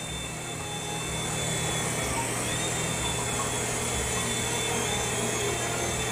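A small RC helicopter flying nearby, its electric motor and rotor making a continuous steady high whine and buzz throughout, fairly loud with no talking.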